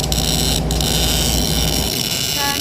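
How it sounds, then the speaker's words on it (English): Loud, continuous buzzing hum with a harsh tonal edge from welding in a truck simulator video game, running steadily for a few seconds. "That's the sound of a good weld."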